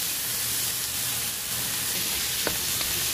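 Zucchini and carrots frying in olive oil for mixed seafood fried rice, a steady dense sizzle throughout with a couple of faint clicks near the end and no talk.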